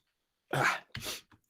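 A single close sneeze, a sharp burst followed by a shorter second puff and a faint trailing sound, in otherwise quiet surroundings.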